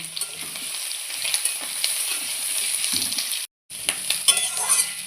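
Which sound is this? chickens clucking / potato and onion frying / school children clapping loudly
potato and onion frying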